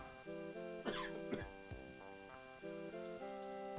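A person coughs twice in quick succession while playing Monster Rancher Advance. The coughs are short and close over a soft, steady game music loop.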